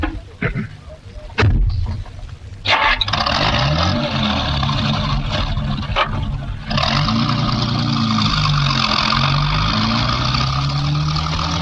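A car starts up and drives off with a loud, sustained engine roar that rises after a few sharp thuds, close by and continuing steadily to the end.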